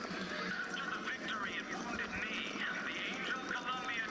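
A mechanical horse in Bioshock Infinite whinnies and clip-clops steadily throughout, a bright neighing call over a busy game ambience, with faint background voices mixed in.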